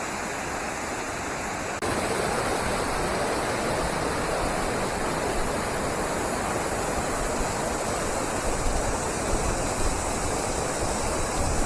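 Anaimedu waterfall near Salem pours in a steady, dense roar of rushing water that is close and loud, jumping up in level after a couple of seconds and then holding constant with no voices.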